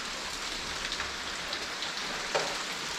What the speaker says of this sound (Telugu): వర్షం ఆగినాకే మేము వెళ్ళాలి.